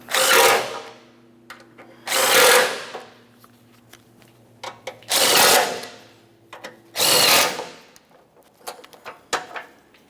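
A power tool snugs up bolts on the impact absorber of a 2015–2019 Subaru Outback, four loud, close bursts of whirring drive with short rattling clicks and handling noises between them.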